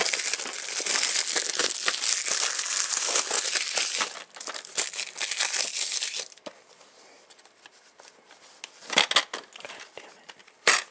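Plastic wrapper crinkling and crushing as a Killzone 2 game box is unboxed, loud and continuous at first, then quieter scattered rustles with a brief burst near the end, no talking.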